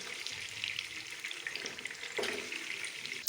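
Mutton frying with ginger and tomato paste in a pan, heard as a soft, steady sizzle and hiss with occasional stirring scrapes, fairly quiet, with no voices.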